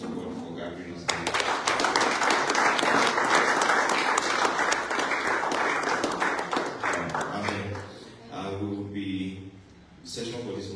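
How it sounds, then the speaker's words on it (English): A congregation at a morning session of a Christian conference breaks into loud, sustained applause. The clapping tapers after about seven seconds, and voices can be heard speaking and calling out over it. "I want us to just give a round of applause to God for gathering us here."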